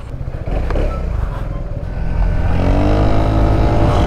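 An Italjet Dragster scooter on a test ride, its engine buzzing close and loud, then revving up with a rising, strained whine as it accelerates midway.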